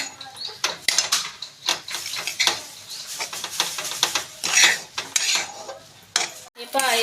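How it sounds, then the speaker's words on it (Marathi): Grated coconut is stirred and sautéed in a heavy-bottomed kadhai over medium heat, with a spoon scraping and clinking against the metal in quick irregular strokes over a faint sizzle, close and fairly loud, with no voices. "आता असंच एकसारखं हलवत मिडियम गॅसवरती तुम्ही असं हलवत परतून घ्या"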